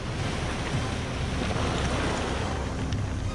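Sea surf breaks on a wild shoreline as a steady, loud wash of noise, mixed with heavy wind buffeting the microphone and no voices.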